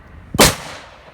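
A single sharp, loud gunshot from a .357 Magnum revolver fired through a chronograph outdoors, a sudden crack followed by a short fading echo.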